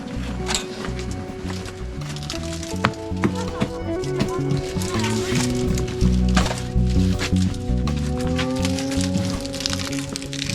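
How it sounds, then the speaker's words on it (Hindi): Ginger for tea is pounded at a simple roadside tea shop in Khirsu in the Himalayas, a run of repeated squishing thuds and cracks in a loose rhythm over a busy background hum. "ये अदरक पीसा जा रहा है।"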